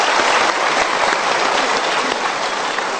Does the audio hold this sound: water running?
no